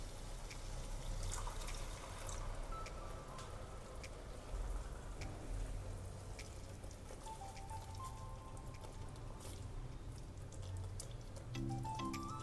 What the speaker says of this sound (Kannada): ಅರ್ಧ ಕಪ್ಪಷ್ಟು ಬಿಸಿ ನೀರು ಹಾಕೋತೇನೆ.